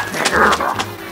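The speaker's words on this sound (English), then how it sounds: "Oh, you're spooking the dogs." A few short dog barks or yelps in quick succession, fairly close, with a low hum underneath.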